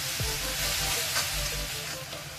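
Drumstick leaves fry in a pan with a steady, close sizzle while being stirred, a few soft scrapes and knocks rising over the constant hiss, no voices.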